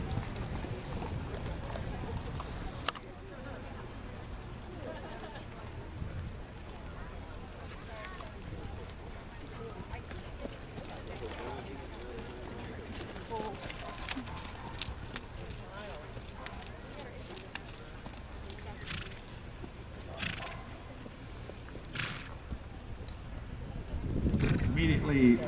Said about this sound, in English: Riders, let's go trot your horses.